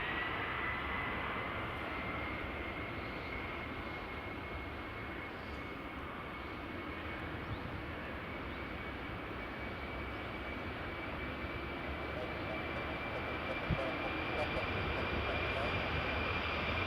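A Delta Boeing 767 jet takes off from the runway at Edinburgh Airport, a sustained broad engine roar with a steady high whine that swells gradually over the whole stretch.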